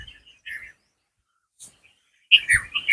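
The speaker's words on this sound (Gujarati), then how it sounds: "પક્ષીઓનો ચિલચિલાહટને જો સાંભળી શકો છો આપ" Sparse bird chirps at the Valram Tirth Dham temple in Kutch: a few faint calls early on, then a brighter burst of several tweets near the end, in otherwise quiet surroundings.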